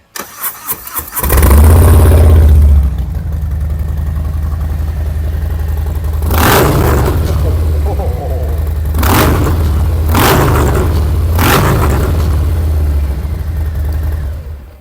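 Harley-Davidson Low Rider M8 Clubstyle from 2018 with about 15,200 miles cranks and fires into a loud, deep V-twin rumble, settles to idle, then takes three sharp throttle blips.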